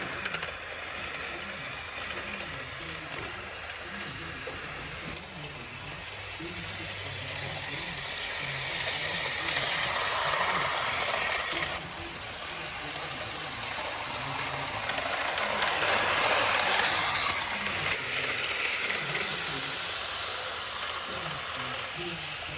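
Bachmann Southern Pacific Daylight GS-4 model steam locomotive running around a layout: a continuous close whirring motor hum with rattling, clicking wheel noise that swells and fades as the train circles.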